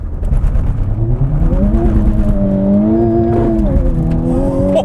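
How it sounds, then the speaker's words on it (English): A 2020 Honda Civic Type R with a 2-liter engine makes a launch control start, the engine note climbing loudly as it revs under hard acceleration amid heavy road and wind noise from inside the car. "Pure wheel slip off the line."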